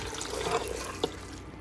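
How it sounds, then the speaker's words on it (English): Bouillon pours steadily into a pot in a home kitchen, a soft continuous liquid stream with a brief splash near the end. "Pouring in the bouillon."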